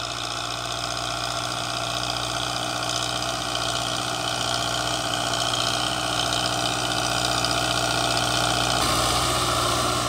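A Belarus 820 tractor engine runs steadily while hauling sand across a field, a loud continuous mid-pitched drone with a pumping, slightly knocking beat that swells a little louder near the end, with no talk.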